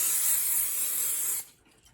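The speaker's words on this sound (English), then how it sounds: "The first thing we're going to do is spray the skillet with Pam." Pam cooking spray hisses onto a skillet in one continuous close burst lasting about a second and a half, then cuts off abruptly into quiet.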